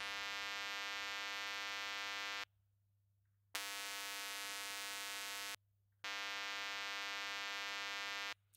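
Steady sine tone run through FreqTube analog saturation plugin, a buzzy harmonic-rich drone that cuts out abruptly twice for about a second each, then resumes at the same level.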